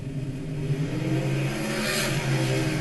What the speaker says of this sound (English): There's two cars drag racing.